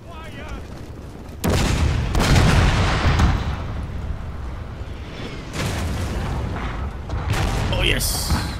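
Cannon fire in a Total War Shogun 2: Fall of the Samurai battle: loud, deep booming shots land at intervals over a constant battlefield roar, with voices talking over them.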